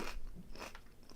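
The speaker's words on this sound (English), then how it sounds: "Obviously, I can hear myself munching" Crunchy, woody-textured food bitten and chewed right at the microphone, with a few loud crisp crunches spaced through the short stretch and no talking.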